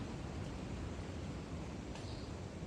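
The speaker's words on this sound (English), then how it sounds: "you can hear some of that wind up there" Steady wind rushes over choppy lake water around a kayak, a constant broadband roar with no break and no voices.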